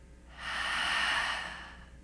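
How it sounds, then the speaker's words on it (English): A single long, steady ocean-breath exhale during a calm yoga session, a soft airy whoosh that swells and fades over about a second and a half, close and alone with no talking. "exhale, making the sound of the ocean wave"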